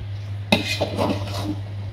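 Utensil scraping and knocking inside a cooking pot as food is stirred in a home kitchen, a sharp clink followed by a few softer scrapes over a low steady hum.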